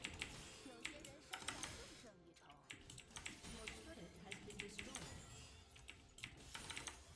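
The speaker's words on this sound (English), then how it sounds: "His keyboard and mouse sounds are just so, like, therapeutic" A League of Legends player clicks and types on a computer keyboard and mouse in quick, irregular bursts of crisp taps, very faint overall, with game sounds mixed in.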